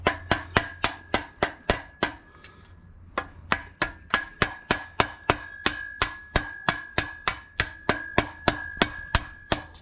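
Loud, evenly spaced hammer blows ring out on the metal exhaust slip-ons of a 2023 Indian Challenger motorcycle, a steady clanging rhythm with a brief pause before the strikes resume.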